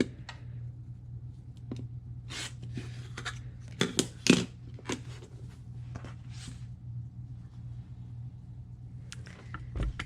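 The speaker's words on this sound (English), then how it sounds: "So we're going to trim these last two pieces, get those corners off there." Scissors snip the corners off quilt fabric pieces in a quiet room, a handful of crisp cuts clustered near the middle, with lighter handling rustles between them.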